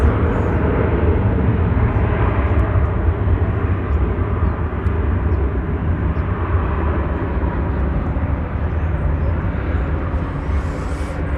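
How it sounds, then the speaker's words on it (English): An American Airlines Airbus A321 taking off at DFW Airport, a steady, loud broadband jet-engine roar that holds constant throughout with no talking. "Off to Tucson goes this Airbus A321. It is American flight 2720."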